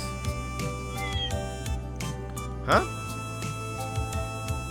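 A cat meows several times in the video game The Legend of Heroes: Trails Beyond the Horizon near a train, with short mews over a steady game music bed and other game sounds.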